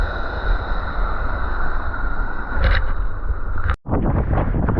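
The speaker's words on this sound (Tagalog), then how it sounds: "kalakas ng hangin mga partner biglang nagbago ang ihip ng hangin" Strong wind buffets the microphone with a loud, continuous roar, then cuts out for a moment before gusting back in.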